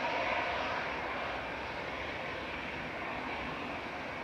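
An easyJet airliner's engines drone steadily at Manchester Airport, a continuous broadband roar heard from a distance with no voices over it.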